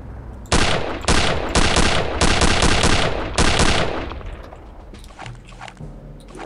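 Rifle gunfire in Return to Castle Wolfenstein, a run of loud, close shots arriving in quick bursts with brief gaps between them, then a fading tail with small clicks and handling noises.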